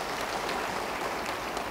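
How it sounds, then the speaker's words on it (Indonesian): Applause from a church congregation, a dense steady patter of many hands clapping together at moderate volume, with no voices. "Yang percaya beri tepuk tangan bagi dia."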